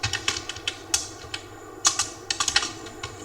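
Programming code is typed on a computer keyboard, with crisp, uneven clusters of close key clicks and brief pauses between bursts, heard alone without speech.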